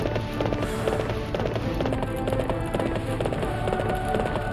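Rhythmic galloping hoofbeats of a horse in the video game Warriors Orochi 3 Ultimate, a fast steady clip-clop under game music and effects.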